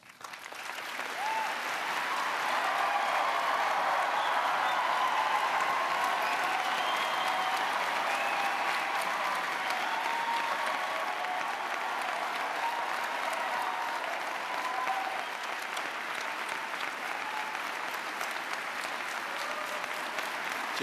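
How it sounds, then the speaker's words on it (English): A large audience at the 2012 presidential debate applauds to welcome President Obama and Governor Romney, with dense, sustained clapping that holds steady for about twenty seconds. "There is a noise exception right now, though, as we welcome President Obama and Governor Romney."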